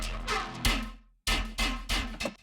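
A snare drum processed with a convolver effect hits repeatedly with a harsh, ringing metallic tone and long bright decays, loud and close, in an uneven pattern with a brief gap.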